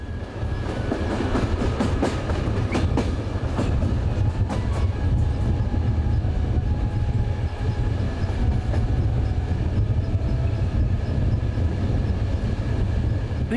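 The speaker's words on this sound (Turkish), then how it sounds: "Sirkeci Garı'na bir tren geldi." A train arrives at Istanbul's Sirkeci Station on a rainy evening, rumbling steadily nearby with a low heavy roar and faint rhythmic clacking of wheels on track, no voices.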